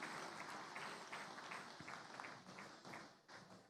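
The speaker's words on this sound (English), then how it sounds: "Please, a round of applause for a great work that they've just done." Audience applause at a gala dinner for the Africa Food Prize: a steady wash of many hands clapping in a large room, moderately distant and even throughout, fading slightly toward the end.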